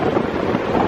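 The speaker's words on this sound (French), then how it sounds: "Là, il y a du vent, là." Strong wind buffets the microphone outdoors by the sea in Australia, a loud, continuous gusty roar with no voices.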